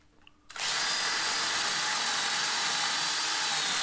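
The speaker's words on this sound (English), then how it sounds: "I found it best to drill a 4mm pilot hole to ensure a good alignment." Power drill boring a 4mm pilot hole into an interior door: after a brief quiet moment the drill starts with a sudden burst and runs loud and steady, close up, with no voices.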